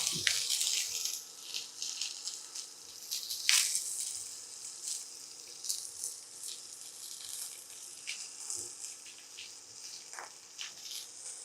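Mustard seeds, cumin, onions and chili sizzling in hot oil in a home kitchen pan, a continuous crackling hiss with scattered sharp pops throughout.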